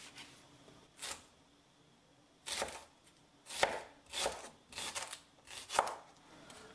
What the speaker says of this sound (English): So I'll chop this up real quick